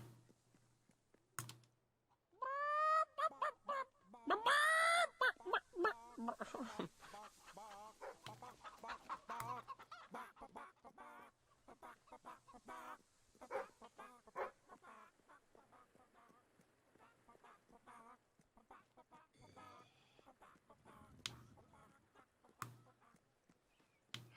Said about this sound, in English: Should be another set of chickens up here somewhere.